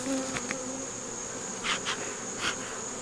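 Honeybees in a nuc hive give off a steady, close buzzing hum, with a few louder swells as individual bees fly near, and no voices.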